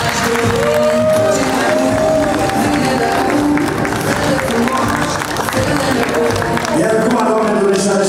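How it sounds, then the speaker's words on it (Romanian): Crowd applause and cheering fill the space steadily at a wedding reception, with a busy mix of voices running underneath. "Aplauze pentru nași!"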